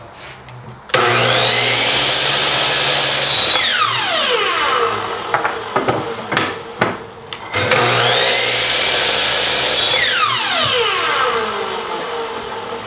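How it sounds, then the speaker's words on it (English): A power tool, likely a chainsaw, cuts through the ends of a piece of white oak firewood in two loud bursts, each revving up to a steady whine that bogs down and falls away. A brief idle gap separates the two cuts. "First I'm going to cut the ends, clean it up, then I'll cut it to length."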